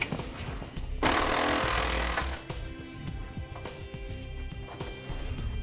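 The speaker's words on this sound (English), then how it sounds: "We're going to use a 21mm socket to remove those" An impact or power tool spins a 21mm socket to remove cross frame member bolts on a 2012 Ford F-53 motorhome chassis, a loud burst of about a second followed by clanking and rattling metal.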